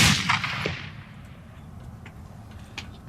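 A single Remington 700 rifle chambered in .300 Win Mag fires one loud, sharp report outdoors, its echo fading quickly into quiet open-air ambience.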